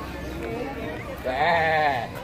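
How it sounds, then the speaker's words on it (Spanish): A goat bleats at an aquarium, a loud wavering cry rising midway over a steady background hum, with people talking around it. "Chivo cabra."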